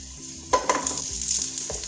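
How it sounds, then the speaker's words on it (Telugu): Sliced onions hit about five tablespoons of hot oil in a pan for a mixed vegetable kofta gravy, setting off a sudden sizzle with a couple of sharp bursts that settles into a steady frying hiss, close up and without talk. "ఇప్పుడు ప్యాన్లో ఒక 5 టేబుల్ స్పూన్ ఆయిల్ వేసుకొని దీంట్లో స్లైస్ చేసిన ఆనియన్స్ వేసేసుకుందాము."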